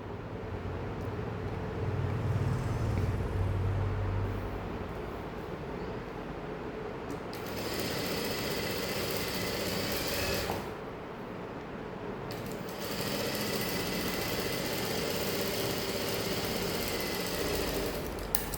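A sewing machine runs in steady bursts while stitching a saree, its continuous mechanical whir broken by a couple of brief pauses, close and fairly quiet with no talking.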